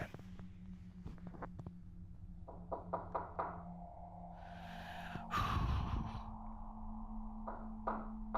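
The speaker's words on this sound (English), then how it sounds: "I hear knocking again." Scattered knocks, some single and some in quick clusters, sound against a quiet, humming room, with a louder muffled thump near the middle.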